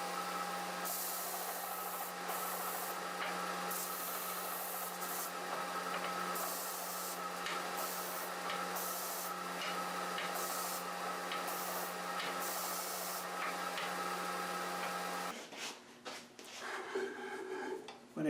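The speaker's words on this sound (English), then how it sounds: "Now I'm just going to sand these inserts flat" Steady, close sanding drone as wooden Celtic ring inserts are sanded flat, a continuous buzzing hum with rhythmic strokes that holds for about fifteen seconds before cutting off into quieter shop rattles.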